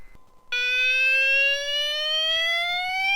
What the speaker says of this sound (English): this is an update to my garage fire alarm